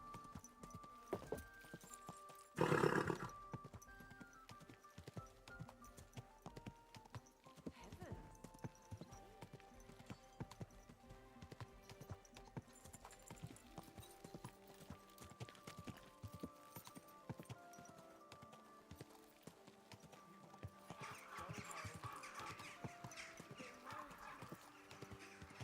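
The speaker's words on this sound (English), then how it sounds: "Easy, good horse." Horse hooves clip-clop at a slow walk in the Peasant Simulator video game, steady and close, with a whinny near the start and a person talking softly over them.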